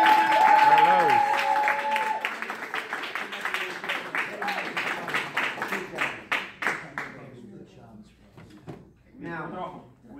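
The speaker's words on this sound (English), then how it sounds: "And just a big round of applause for everyone." Applause rings out at a karate belt promotion ceremony, dense clapping from the gathered crowd that gradually thins into scattered claps and fades, with voices and cheering over the top.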